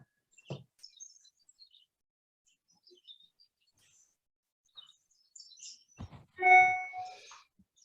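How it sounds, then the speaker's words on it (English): Small birds chirp outdoors in short, scattered bursts, quiet and fairly distant, with a louder, clearer call toward the end against an otherwise still background. "The bird chirping is free of charge too."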